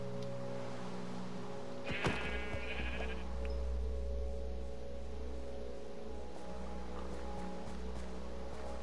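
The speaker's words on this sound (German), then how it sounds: "Da ist noch ein Schaf." Sheep bleating in the video game Minecraft: one short, clear wavering bleat near the start, rising over a steady low in-game ambient hum. No talking is heard.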